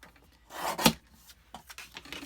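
A paper trimmer slices through a piece of cardstock with short rasping strokes, one sharp cut standing out among softer sliding and rubbing sounds close up.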